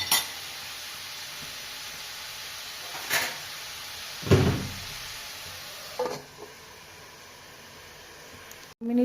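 A lid set over a pan of tomato chutney cooking on the stove, with a few distinct metallic clatters over a steady soft hiss of simmering.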